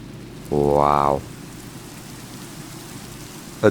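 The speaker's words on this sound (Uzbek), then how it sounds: "yomg'ir yog'yaptimi bolalar?" Soft, steady rain in Minecraft patters continuously in the background while a single voice speaks briefly near the start.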